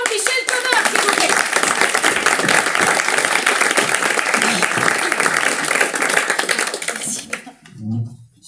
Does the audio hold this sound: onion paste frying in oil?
no